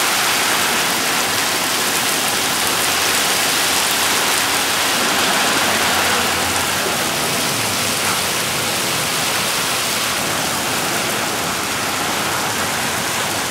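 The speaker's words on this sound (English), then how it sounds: "Look at that rain." Heavy rain pours steadily, a dense, constant hiss of drops filling the whole clip without letup.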